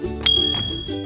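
A single bright notification bell ding rings out clearly and fades quickly, alone and close.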